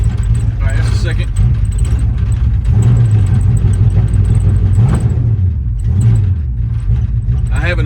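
A 1968 Ford Fairlane V8 with an unadjusted idle, rumbling steadily at close range with a low, even throb, a brief higher flutter partway through, and faint background noise.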